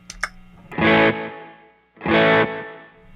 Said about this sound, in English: So then the slapback